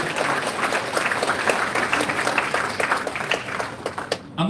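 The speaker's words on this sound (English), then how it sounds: "Could you all give a round of applause for yourself" A crowd at a U.S. congressional campaign event gives a dense, sustained round of applause, many hands clapping steadily at close range before it cuts off abruptly at the end.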